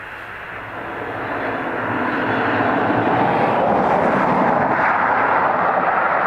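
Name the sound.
Ryanair airliner at Dublin Airport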